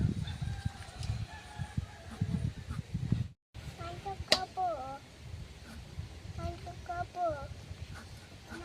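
Free-ranging native village chickens at a rural home, clucking in short bursts with a few crowing calls amid steady outdoor background noise and a brief silent gap.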